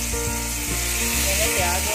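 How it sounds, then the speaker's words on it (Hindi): Onions sizzling and frying in hot oil with cumin seeds inside a pressure cooker on a gas stove, a steady loud crackle with occasional stirring scrapes and no voices. "अब हम इसमें प्याज डालकर उसको भूनेंगे"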